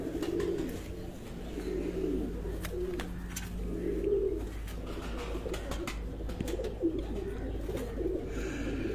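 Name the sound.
pigeons cooing at a pigeon show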